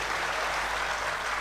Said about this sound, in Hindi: बाकी बड़ी वाली तालियां चाहिए मुझे